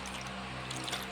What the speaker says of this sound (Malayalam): ഇനി ഞാനിത് വെള്ളം ഒഴിച്ച് കഴുകുകയാണ്.